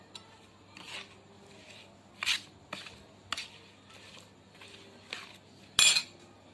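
Raw mango pieces being stirred into pickle masala, with a utensil clinking and scraping against a pot in separate, irregular strokes. A sharper clink comes near the end.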